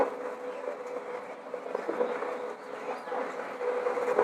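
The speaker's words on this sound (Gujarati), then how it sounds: "ફાઇનલી અમારી છૂટછૂટ ગાડી એટલે કે ટ્રેન આવી ગઈ છે" Low rumbling of a train rolling into a station, heard from the platform with a steady hum and faint clatter, moderately distant.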